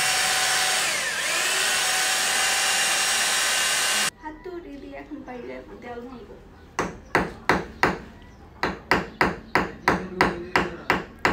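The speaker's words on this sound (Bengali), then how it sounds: "আব্বু ড্রিল মেশিন দিয়ে আমাদের দেয়ালটা ফুটা করে দিবে" An electric drill machine bores a hole into a home wall with a loud, steady whine lasting about four seconds, then a series of sharp, evenly spaced knocks follows.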